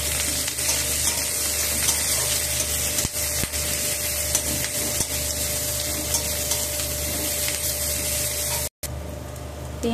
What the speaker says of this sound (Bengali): কড়াতে তেল দিয়ে দিলাম, দিয়ে পেঁয়াজ লঙ্কা রসুন দিয়ে দিলাম।